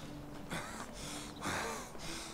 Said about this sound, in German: Alter, der schnieft.